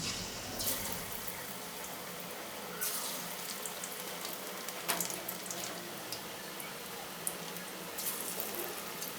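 Pakoras frying in hot oil in a wok, a steady broadband hiss and bubbling with occasional sharper crackles and pops, fairly close and continuous with no talking.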